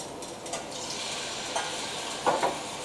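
Bourbon sauce being whisked in a pan, a steady soft scraping and bubbling texture with a few sharper clinks of the whisk against the metal, close and continuous without any talk.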